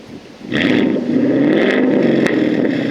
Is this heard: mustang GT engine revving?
yes